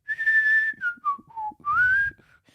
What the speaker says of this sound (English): Play old man whistling.